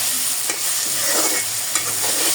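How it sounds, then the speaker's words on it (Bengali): Peas and tomatoes fry with spice paste for a Bengali rohu fish curry, giving a steady close sizzle with a couple of brief stirring scrapes and no talking. "এই মটরশুঁটি টমেটোগুলো ভাজা হলে এর মধ্যে আমি পেস্ট করে রাখা মশলাগুলো দিয়ে দিলাম"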